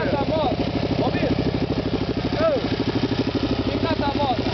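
A motorcycle idling at a year-end riders' gathering gives off a steady, even engine pulse throughout, while people talk over it.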